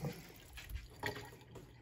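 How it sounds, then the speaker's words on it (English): Water pours into a glass in a faint, short trickle with a few soft splashy surges. It is quiet and nearby, with no talking. "You're first going to take your glass and fill it up with some water"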